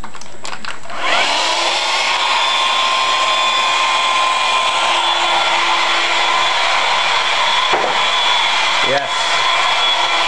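A homemade hovercraft's motor and fan start up and run indoors with a loud, steady high-pitched whine like a hair dryer, continuing for about nine seconds, with a brief word spoken near the start.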